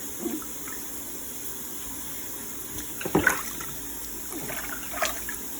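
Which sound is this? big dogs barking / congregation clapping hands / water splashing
water splashing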